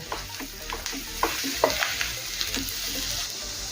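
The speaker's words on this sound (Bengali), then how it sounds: "আলু মশলার সাথে মিশিয়ে নেব।" Boiled potatoes stirred into spices in a hot pan, a close sizzle punctuated by repeated scraping and clinking of a spoon against the pan at an irregular pace, without speech.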